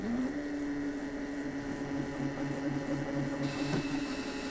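Power drill with a chamfering bit beveling parts, a steady close whirring motor drone with a constant pitch and a brief bump near the end.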